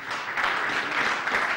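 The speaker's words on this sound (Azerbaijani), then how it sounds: "Gəlin onu alqışlayaq" Audience applause for a 15-year-old singer on a televised talent show, a dense, steady wash of clapping that holds throughout at even volume with no voices on top.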